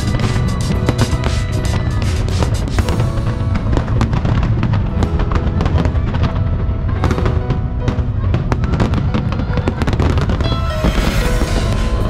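Fireworks burst over a Japanese summer festival, a loud continuous barrage of booms and crackling volleys that rolls on without pause, with crowd noise mixed underneath.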